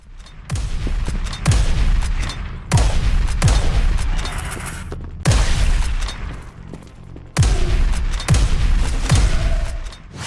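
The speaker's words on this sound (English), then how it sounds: "an alternative fire mode that lets you charge it up and shoot out a blazing fireball" Loud weapon fire and heavy explosions from the game Quake Itch Herald of Havoc, with repeated booming blasts in bursts separated by short gaps, each followed by a rumbling decay.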